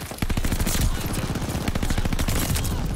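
Rapid bursts of DP-27 machine gun fire in a video game, loud and close, a steady rattling stream of shots running almost the whole time.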